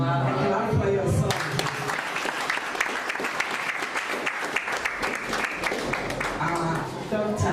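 Applause from an audience at a university honours certificate programme launch, dense sustained clapping from many hands that swells and carries on for several seconds with some voices mixed in.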